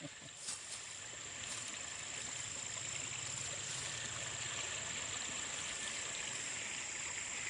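Continuous rushing water, like a stream flowing nearby, steady and broadband with a few faint knocks at the start.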